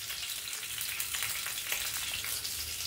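Sun-dried vadiyalu fritters, still slightly damp, crackling and sizzling in hot oil, a steady dense spatter of pops and hiss throughout at close range.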